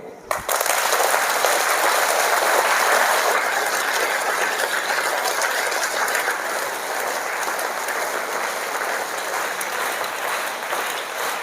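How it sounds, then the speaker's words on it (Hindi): Students in a school assembly clap steadily and loudly for several seconds, a dense wash of many hands that eases slightly toward the end. "ऊपर ताली बजाएंगे।"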